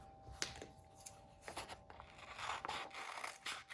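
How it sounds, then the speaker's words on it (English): Scissors cutting shapes out of folded paper: quiet, close snips and papery rustles in an irregular series, with no other sound. "We're going to cut these shapes out."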